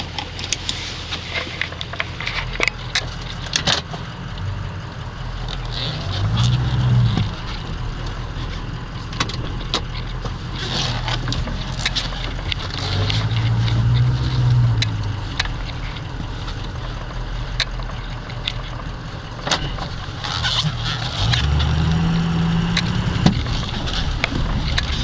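A Ford F350 Powerstroke diesel truck runs steadily while being driven, a low engine rumble with rising pulls under cabin noise, occasional clicks and knocks scattered throughout.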